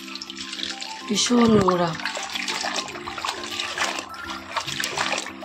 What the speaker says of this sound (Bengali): এক ধোয়া দিয়ে কোনোদিন শাক খাওয়া যাবে না, 2-3 বার ধুতে হবে।